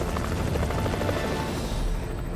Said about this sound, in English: Hidden by the trees, Larry and Tommy remain invisible to the helicopter crew above.